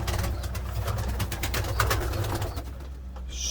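Young pigeons in a coop, soft low cooing and fluttering calls repeating in an uneven rhythm, close and moderately loud over a dull background hum.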